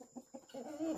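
A chicken clucks close by in a short burst of a few quick clucks, with no talking.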